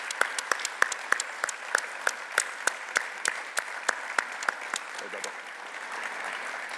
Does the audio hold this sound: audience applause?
yes